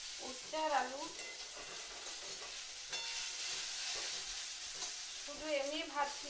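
Close, continuous sizzling of bitter gourd and potato fried in oil before salt and turmeric go in, with spatula scrapes and stirring, and short bursts of a voice talking over it.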